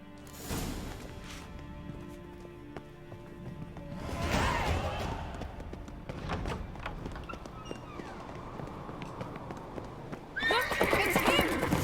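Horses neigh and whinny over a rhythmic clip-clop of hooves, with a rush of galloping movement in bursts, in The Witcher 3 game soundscape.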